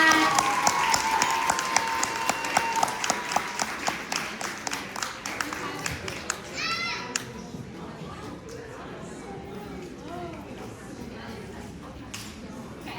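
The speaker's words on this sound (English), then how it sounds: "let's give one more round of applause for all the Vietnamese cultural speakers and performances that we had" An audience at a college AAPI celebration claps for Vietnamese cultural speakers and performers: loud, dense applause that gradually thins and fades out, followed by scattered murmuring and a voice speaking.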